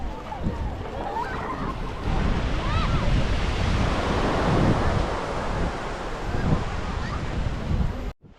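Ocean waves wash onto the beach at Port City, Sri Lanka, a steady broadband roar of surf and wind filling the whole stretch, fairly loud and close, with faint voices now and then beneath it.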